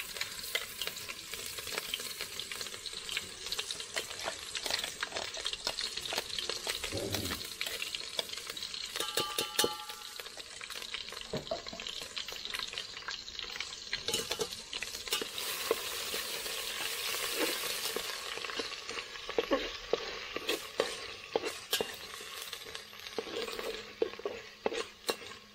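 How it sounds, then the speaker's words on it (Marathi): Ground masala paste sizzling in hot oil on a village wood-fired stove, stirred steadily with a spoon; a continuous close fry hiss with frequent scraping strokes and occasional clinks against the pot. "मिक्सरमध्ये बारीक केलेला मसाला आहे ना, आता आपण ह्यात तेलात टाकला"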